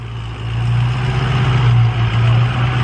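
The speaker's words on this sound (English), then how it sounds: "Oh my God, the big truck's moving." A big truck moving in Texas gives a loud, close, steady low engine rumble that holds throughout without pauses or voices.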